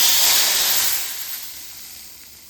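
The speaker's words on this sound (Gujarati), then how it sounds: "તેલ ગરમ થઈ જાય એટલે રાઈ, જીરું, લીમડી પત્તા, ખડા મસાલા તેમજ હિંગ અને કાશ્મીરી લાલ મરચું ઉમેરી ગરમ ગરમ દાળમાં વઘાર બેસાડી દઈશું" Hot oil tempering with mustard seeds, cumin, curry leaves, whole spices, asafoetida and Kashmiri red chilli poured into hot Gujarati sweet-sour dal, a loud steamy sizzle that fades steadily as it settles.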